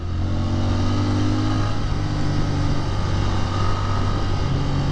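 On a test ride, a motorcycle engine pulls under acceleration with a constant, close-up drone, its pitch shifting slightly as wind noise rushes past without pause.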